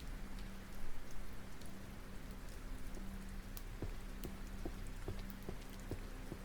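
Rain ambience in the cozy video game The Librarian: a constant soft hiss of rainfall with scattered droplet ticks, a faint low hum underneath, steady and gentle throughout.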